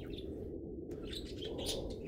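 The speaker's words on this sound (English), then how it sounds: "You birds have got to stop. Stop being so loud." Birds chirp and tweet in the game Into The Radius, several short calls scattered over a steady ambient bed, moderately near and fairly quiet, with a brief gap in the high calls partway through.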